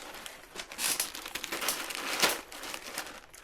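Scissors cut through a plastic bag holding ceramic aquarium filter rings, producing close crinkling and rustling bursts with sharp snips, fairly quiet and irregular without speech.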